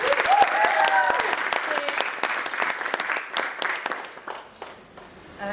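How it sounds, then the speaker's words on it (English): An audience gives a round of applause for candidates at a student union officer election Q&A, dense clapping that starts loud and gradually thins out and fades. "Please give them a round of applause."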